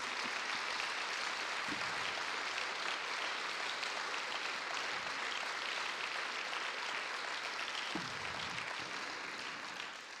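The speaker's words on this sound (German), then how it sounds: "ich glaube, das ist ein Applaus wert" Sustained audience applause fills a cultural stage venue, a dense, steady roar of many hands clapping at constant loudness for the whole stretch, tapering slightly at the very end.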